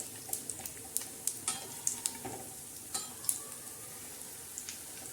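A besan dhirde, a chickpea-flour pancake with onion, green chili and coriander, crisps faintly on a hot tava. A spatula taps and scrapes in a few sharp, close clicks as the pancake is flipped.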